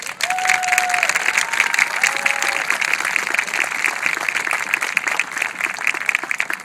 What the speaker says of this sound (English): applause for the Cancer Society.